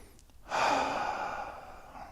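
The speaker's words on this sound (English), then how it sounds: "Breathe in the center of your body." One long, deep breath drawn in then slowly released through the mouth, close and clear, with a soft airy rush fading over about two seconds, no voice present.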